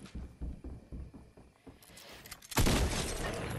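Rapid clipped Fortnite gunshots tap out quietly in a quick rhythm, then a louder, sustained burst of noisy impact and crackle takes over for the final second.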